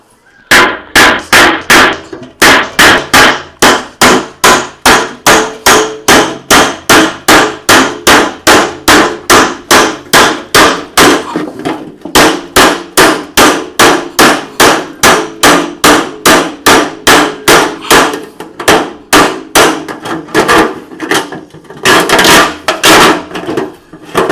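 Empty metal oil tin being cut open along its side with a long run of rapid, evenly spaced loud metallic blows, dozens in succession, close up and alone.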